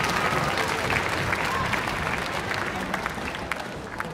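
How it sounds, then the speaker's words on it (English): Audience at an elementary school beginner instrumental concert applauding, a dense, steady wash of many hands clapping at close range that eases slightly toward the end, with a few louder individual claps near the close. "Can you give yourselves a round of applause, please?"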